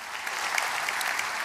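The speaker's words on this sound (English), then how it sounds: "let's give our panel a great hand of applause" A conference audience claps for a panel, a short, dense burst of steady applause from a moderately sized crowd, heard from a little distance.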